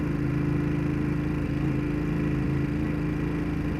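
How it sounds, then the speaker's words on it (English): A Ducati motorcycle engine idling close by, a steady low rumbling throb with an even pulse that holds constant throughout, with no voices. "get the Ducati out"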